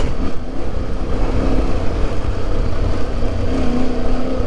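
An Aprilia Tuareg 660 motorcycle engine drones steadily and close throughout, a continuous rough hum with slight shifts in pitch while riding a rutted trail along an old Roman road.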